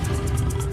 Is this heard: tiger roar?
yes